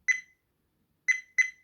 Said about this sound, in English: and this beep alarm.